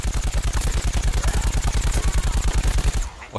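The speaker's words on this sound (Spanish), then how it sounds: "Le he frito a tiros, ¿eh?" Rapid automatic gunfire from Plants vs Zombies Garden Warfare rattles in a fast, even stream of loud close shots for about three seconds before cutting off abruptly.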